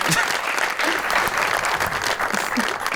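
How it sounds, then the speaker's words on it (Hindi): Dense audience applause fills a comedy or talk-show style setting, steady and loud throughout, with a faint crowd murmur and a little voice under the clapping. "तालियां बजाओ"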